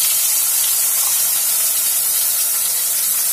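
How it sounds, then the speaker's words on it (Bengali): Tomato-onion paste hits hot oil seasoned with black cumin in a pan, giving a loud, continuous sizzling hiss that stays even and unbroken throughout. "আর দিয়ে দেব টমেটো পেঁয়াজের যে পেস্টটা রেখেছিলাম সেই পেস্টটা এর মধ্যে দিয়ে দিই।"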